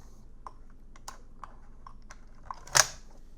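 The bolt carrier comes out of an SKS rifle with a series of light metallic clicks and taps, ending in one sharper, louder clack, all close and quiet.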